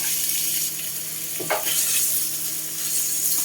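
Food stir-fried in a pan gives a steady, close sizzle and hiss, with a brief louder scrape of stirring midway through.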